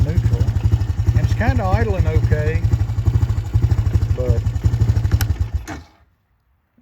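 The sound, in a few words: 2007 Honda Recon ES ATV engine idling in neutral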